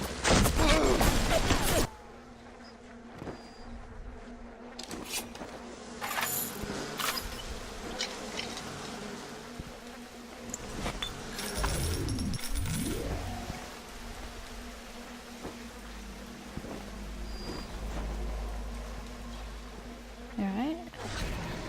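A buzzing insect swarm attacks in the Bioshock video game, a sustained droning hum of wings with scattered impacts and effects, while someone speaks over it at times.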